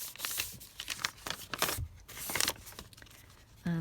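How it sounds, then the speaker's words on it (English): Coffee-dyed paper sheets folded in half by hand give close, crisp crinkles and rustles in uneven bursts, with brief handling noises between folds. "just going to take a couple of coffee dyed sheets, and again, I can just fold them in half"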